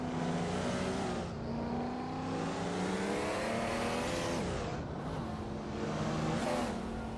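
A 1992 Nissan Skyline GT-R R32 race car in a racing video game, its engine roaring continuously with rising and falling revs as it accelerates and shifts, joined by other cars on the track.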